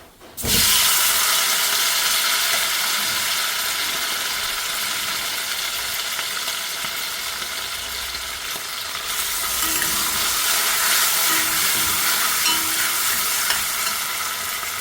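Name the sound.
mutton liver frying with shallots in a pan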